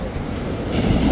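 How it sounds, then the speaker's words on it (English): A steady, broad rumbling wash of large surf at Dreamland Beach, continuous and fairly loud, swelling slightly toward the end with no voices. "look at those waves"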